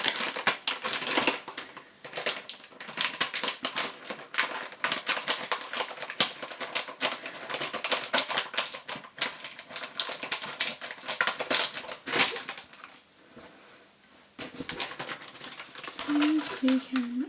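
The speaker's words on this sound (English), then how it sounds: "This has some cut lines on the top, so I'll cut to those." Plastic packaging of a Japanese DIY candy kit being cut open along its cut lines, a long run of close, rapid crinkly snips and crackles with brief pauses and quiet talk near the end.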